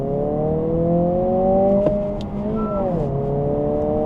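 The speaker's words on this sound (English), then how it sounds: "So let's go into second, rev match downshift, get a little bit slow here, and let's give it some beams." 2025 Honda Civic Si manual engine revving under load, pitch rising steadily, then a quick rev-matched downshift into second with a brief blip and dip before pulling again; close and moderately loud.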